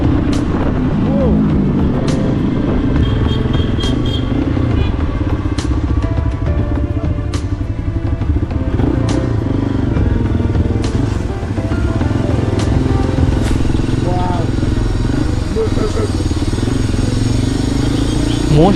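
A motorcycle is ridden on mountain roads in Northeast India, its engine droning loud and steady throughout with wind rush, and a voice talks over it.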